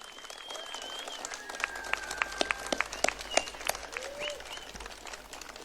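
A crowd at a political rally in Gldani applauds to honour fallen heroes: scattered, uneven clapping swells from a few hands into a fuller burst with sharp individual claps, moderately distant, alongside faint high whistle-like tones.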